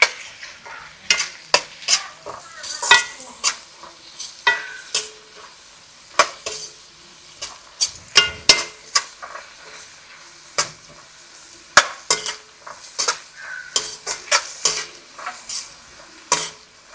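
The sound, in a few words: tomato and onion sautéing in a pan with stirring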